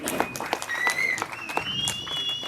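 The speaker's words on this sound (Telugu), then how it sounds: "సో గట్టిగా చప్పట్లు, కేకలు అన్నీ కావాలి." An audience at a movie poster launch claps and cheers for a heroine's entrance, dense applause with a sustained whistle on top, while a voice speaks partly through it.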